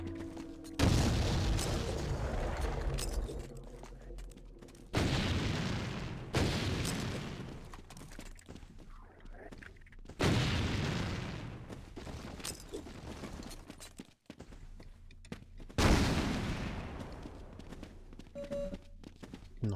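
Grenades explode over and over in Half-Life, with loud, close booming blasts in a rhythm of roughly one every few seconds, each rolling into rumbling debris.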